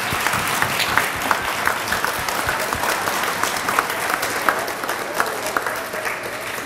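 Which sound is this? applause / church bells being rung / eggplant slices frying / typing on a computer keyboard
applause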